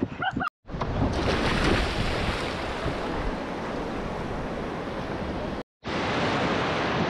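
Fast river rapids on a Rishikesh rafting run rush and slap against the raft near a rock face, making a loud, continuous roar of water broken by two brief gaps.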